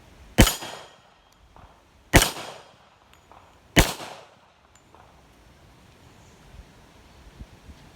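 A Rock Island Armory M1911-FS GI Standard pistol fires three loud, sharp shots about a second and a half apart at an outdoor range, each followed by a brief echo, then quiet.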